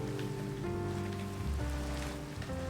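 Steady rain patters in the Minecraft video game, a soft continuous hiss beneath sustained, gentle in-game music.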